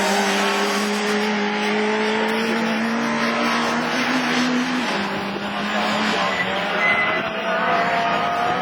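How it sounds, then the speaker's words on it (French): Super 1600 rallycross race cars roar past at a French championship meeting in Mayenne, engines droning loud and continuous with shifting pitch as they accelerate and brake on the track. "Elle marche la voiture de Bernard René"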